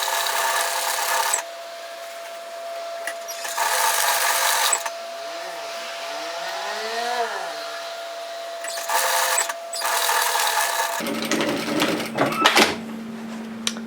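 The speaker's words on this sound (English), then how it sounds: "I'm stitching at 5mm, which is just under 1/4 of an inch" A sewing machine stitches a mesh produce bag at a 5mm stitch length in several short, sharp bursts separated by pauses, close by, with a rougher scraping texture toward the end.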